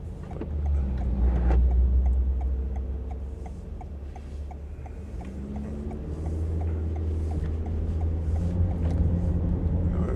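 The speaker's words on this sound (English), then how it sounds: "I hope you heard some of the engine" A Toyota Corolla Cross XS engine drones steadily as the SUV labours up an incline, a low continuous rumble with a faint regular ticking on top, heard from inside the cabin.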